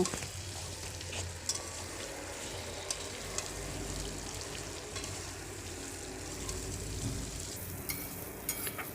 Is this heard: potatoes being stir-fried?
yes